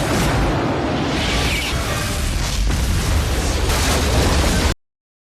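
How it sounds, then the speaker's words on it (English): Two missiles explode in a Godzilla film, a loud sustained broadband roar of blasts and rumbling debris that fills the scene, with no talking, before cutting off abruptly. "What kind of missiles are those? Those were 2 missiles."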